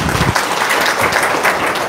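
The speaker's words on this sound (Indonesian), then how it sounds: "Tepuk tangan dulu dong." An audience breaks into brief, lively clapping, a dense burst of applause lasting about two seconds without any voices over it.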